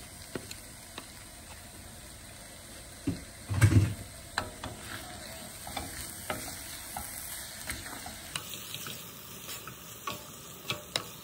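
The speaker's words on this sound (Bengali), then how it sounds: "আর এখন এখানে ভাজবে ছোট কুচানো চিংড়ি" Small chopped shrimp coated in salt and turmeric frying in a pan, giving a soft continuous sizzle with a louder burst of scraping and clatter early on, then scattered light clicks of stirring, without voices.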